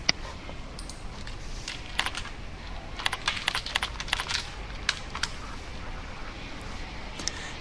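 Someone types on a computer keyboard to enter a web address, a series of close, crisp key clicks in uneven bursts over a quiet room background, with no voices.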